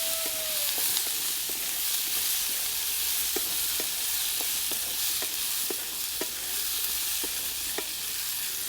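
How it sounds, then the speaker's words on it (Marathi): Chopped turmeric shoots stir-fried in a cumin and mustard seed tempering, a constant bright sizzle at close range with regular sharp taps and scrapes of a spatula against the pan. "मोहरी चांगली तडतडून द्यायची हळद चिरून घेतलेले शेंड्या टाकून दिल्या आता तर चांगलं परतून घ्यायचं आहे"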